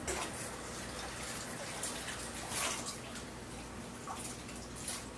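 Tap water runs steadily over curly parsley being rinsed, a constant close splashing hiss with faint drips and no talking.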